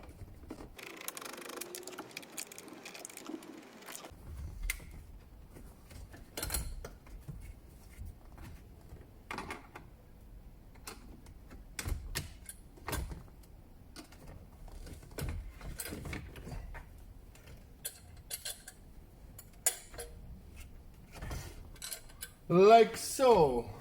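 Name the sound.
removing screws from Nissan Note 2014 dashboard fascia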